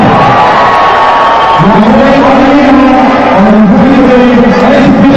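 A packed cricket stadium crowd roars after a last-over finish in a Peshawar Zalmi PSL match, a loud, sustained wall of cheering with rising shouts and whoops and no clear talk.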